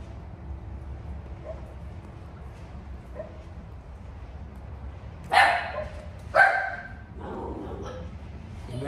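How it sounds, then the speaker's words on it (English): A puppy barks outside in the rain, two sharp, fairly loud yips close together followed by a softer whimpering bark, over a low steady background hum. "Dog's outside barking"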